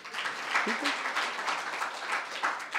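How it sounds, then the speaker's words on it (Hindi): Applause from an audience at a spiritual discourse, a continuous wash of clapping at moderate level with a brief murmur of voices underneath. "ये तो ईमानदारी के लिए रावण के लिए भी ताली बजाई देनी चाहिए"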